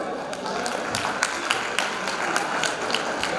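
Rhythmic clapping from an audience at a ghazal recital, hands raised overhead. Individual claps land at fairly regular intervals over a constant crowd wash.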